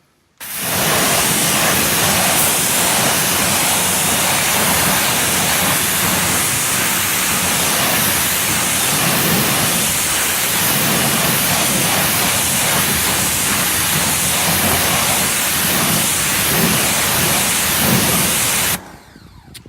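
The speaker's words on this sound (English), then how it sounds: "you actually go and you begin the pressure wash off process" Pressure washer spray rinsing wheel cleaner off car wheels, a steady loud broadband hiss that runs almost unbroken for the whole stretch with little variation and no talk.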